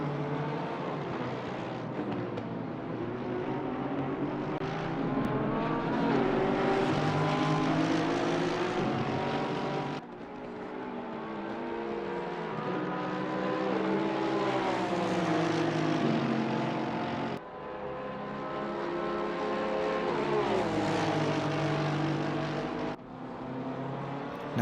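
GT3 race cars, including a Honda NSX and a Porsche, lap the Barcelona circuit in a PC racing game, several engines droning and shifting pitch as they pass in close succession, loud and steady throughout.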